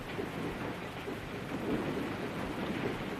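Thunder rolling during a storm over the southern ocean, a steady dense rumble mixed with heavy rain, continuous and fairly loud without any voices.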